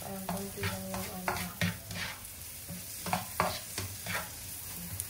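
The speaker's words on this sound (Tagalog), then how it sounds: "igisa-gisa mo lang siya ng konti, mga ilang seconds para ano" Garlic and onion sauté in a pan for ginataang shrimp with spinach, a soft steady sizzle broken by repeated scrapes and clinks of a stirring spoon.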